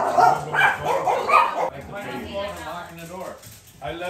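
A family dog barks and yips in short loud bursts inside a Long Island house, mixed with people talking close by.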